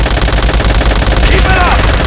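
Call of Duty: World at War gunfight with loud, dense machine gun fire hammering continuously in rapid bursts, close and heavy, with a brief shout rising in the middle.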